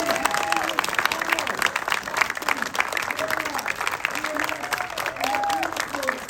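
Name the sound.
audience round of applause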